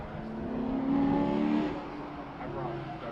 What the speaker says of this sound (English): we've got the first of our 3 Teslas, followed by Kirk Barber in the Toyota PE Motorsports GR Supra